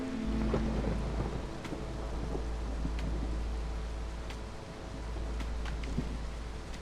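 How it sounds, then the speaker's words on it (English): Thunderstorm in the video game Against the Storm: steady rain with a low rolling thunder rumble underneath and occasional sharp droplet ticks, continuous and enveloping. "There be a storm."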